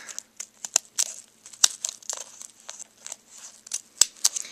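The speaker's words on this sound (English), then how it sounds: "I know that I have to cut another piece, probably right here." Scissors cut fur fabric for fursuit feet in a run of sharp, crisp snips and crinkling rustles at an uneven pace, close up and alone.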